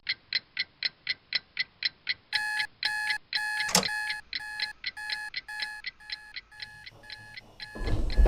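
Alarm clock going off at night before a New Mexico elk bow hunt: a run of sharp evenly spaced beeps that shifts into louder, longer tonal pulses repeating steadily, loud and close with no voices.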